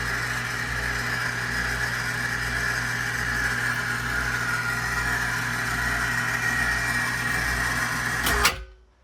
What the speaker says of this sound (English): Now this is a 400-pound winch if I use the block on it